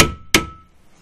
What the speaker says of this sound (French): mais là il faut utiliser le marteau un petit peu plus costaud